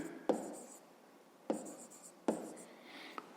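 Pen writing on paper during a fifth-grade math exercise: three short scratchy strokes, each starting with a sharp tap and trailing off, quiet and close with no talk.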